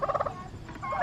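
Free-range backyard fowl calling in a quick burst of warbling, gobble-like clucks, followed by a second softer rippling call, close by and without talk.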